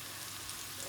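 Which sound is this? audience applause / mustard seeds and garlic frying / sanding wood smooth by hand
mustard seeds and garlic frying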